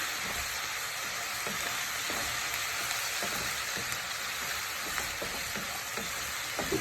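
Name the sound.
chicken balti base cooking down in the pan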